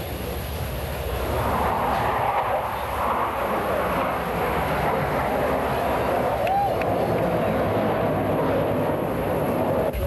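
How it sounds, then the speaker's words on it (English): Blue Angels jet formation performing the Diamond vertical break at the 1987 Moffett airshow, a loud, continuous jet-engine roar carrying for the whole stretch with a broad rushing wash and faint crowd murmur underneath. "Reaching 90 degrees nose up, the Diamond will split, all 4 aircraft exiting in separate directions"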